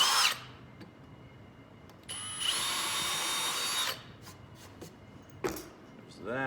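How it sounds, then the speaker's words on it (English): Power drill boring a pilot hole into wood, a steady high-pitched whirring burst lasting under two seconds, with brief short clicks and tool handling noises before and after. "Again, drill my pilot hole."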